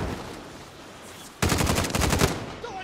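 Rapid automatic gunfire in the video game Call of Duty: Modern Warfare, a loud rhythmic burst of shots starting abruptly after a quieter ambient lead-in.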